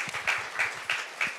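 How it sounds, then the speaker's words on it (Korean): A small audience at a Bechdel Day 2022 talk honoring actress Kang Soo-yeon gives faint, scattered clapping that comes in a few soft rhythmic bursts. "박수 한번 부탁드릴게요."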